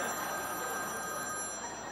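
A telephone rings in a steady, unbroken electronic tone that fills the moment, loud and close against a busy background, with no voices over it.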